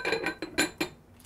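A lid going onto a cooking pot of sizzling peas, several quick, close metallic clinks and taps in a short burst.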